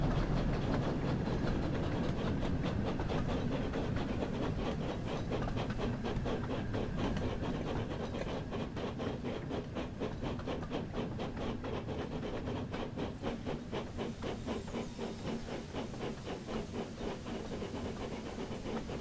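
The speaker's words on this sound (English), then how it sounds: "Exhaust beats are very slightly out of sync." Steam locomotive in a video game, a steady stream of rhythmic exhaust beats chuffing evenly over a constant broad steam hiss, moderately loud and continuous with no talking.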